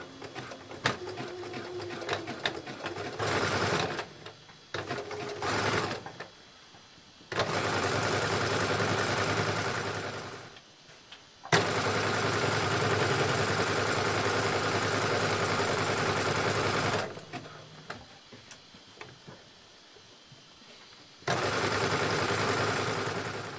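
A sewing machine stitches the waistband casing of stretch swim shorts in close, loud bursts of steady whirring, stopping and restarting several times with short quiet pauses between runs.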